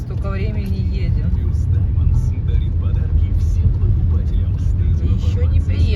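A car driving through the city of Syktyvkar, heard from inside as a loud, constant low road and engine rumble with a voice talking over it.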